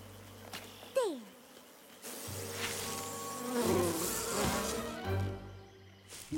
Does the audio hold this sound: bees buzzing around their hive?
yes